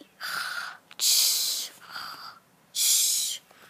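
A voice imitates children snoring in a storytelling setting: two pairs of breathy, rasping inhales and exhales, loud and close, separated by short pauses.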